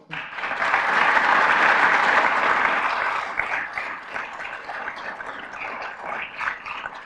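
Audience applause at a Rotary gathering, honoring named guests including couples and members; a broad wash of clapping swells loud for the first few seconds, then thins and fades toward scattered claps.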